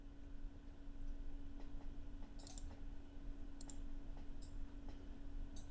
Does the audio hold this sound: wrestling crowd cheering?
no